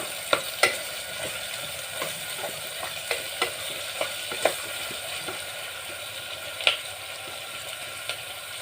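Cashews and curry leaves frying in oil for veg dalcha and bagara rice, a soft continuous sizzle with irregular spoon taps and scrapes against the pan, fairly quiet.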